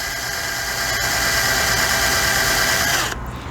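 A power drill grinds steadily through the rivet of a die-cast Hot Wheels-style toy car, a continuous high whine with a slight squeal, loud and close, stopping abruptly near the end.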